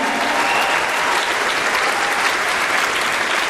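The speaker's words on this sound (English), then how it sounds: "Can you also give a massive cheer for all the volunteers who are working day and night to put on these meetings around the country?" A large crowd at a London Labour leadership rally for Jeremy Corbyn applauds in a loud, unbroken roar of clapping that holds evenly from start to finish, with no talk on top.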